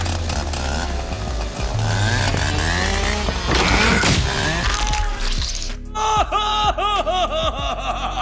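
A chainsaw in a film scene revs loudly with an uneven, snarling engine roar, mixed with shouts and commotion, then cuts to a different sharp tonal sound near the end.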